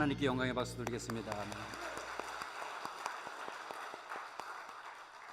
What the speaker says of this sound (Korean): 하나님께 영광의 박수 드리겠습니다.